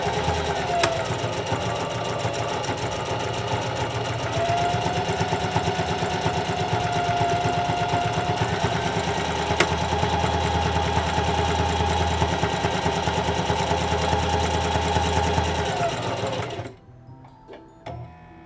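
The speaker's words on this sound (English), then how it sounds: "Now you're ready to start sewing a buttonhole. Press your foot down on the pedal." A Singer CP6350M sewing machine stitching a buttonhole runs in one steady, loud, rapid mechanical chatter for about seventeen seconds, then stops abruptly with a few faint clicks afterward.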